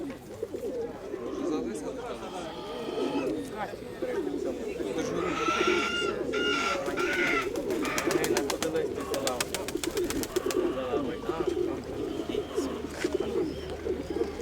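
Pigeons coo at a pigeon and bird fair, soft rolling coos under steady crowd chatter and nearby conversation, with wing flutters and bursts of clicking noise partway through.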